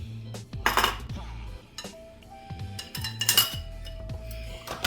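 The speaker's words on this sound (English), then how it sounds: "I'm going to mix the buttermilk in with the beaten egg." Buttermilk being mixed into beaten egg in a bowl for cheddar biscuits, with clinking utensil strikes against the bowl and a few knocks of dishes, close and intermittent, no talking.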